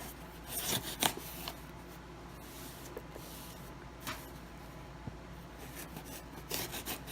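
A knife slicing open a package, a box containing another box, with scraping, rasping cuts in a few brief bursts against a soft, steady background; no one speaks.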